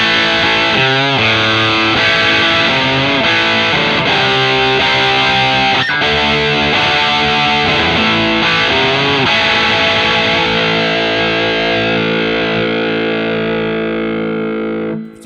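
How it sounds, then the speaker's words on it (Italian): Eart Headless GW2 electric guitar with Alnico 5 pickups played through heavy distortion, loud sustained chords and riffs ringing continuously before fading out at the end, with no talking. "Sentiamo un po' di suoni distorti con questi pick-up Alnico 5."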